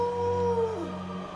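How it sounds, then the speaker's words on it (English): A creature's howl in the Bloodborne video game, a drawn-out wavering tonal cry that slides downward at the end, fairly quiet over a low steady game drone. "And he's making weird howling noises."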